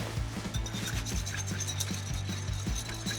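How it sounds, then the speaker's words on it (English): Salt, pepper and olive oil are given a quick whisk in a bowl, making rapid, even tapping and scraping strokes close by over a steady low hum, with no voices. "now we're gonna do a quick little whisk"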